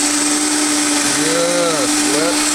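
A blender whirs loudly and steadily as it mixes a sweet potato drink, with a constant motor whine and a brief pitch dip near the end while a voice talks over it.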